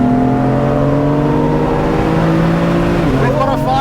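A BMW F80 M3 on a race track drones loudly up close with a steady engine note. The note shifts in pitch near the end, with a few rough crackles, while voices talk over it.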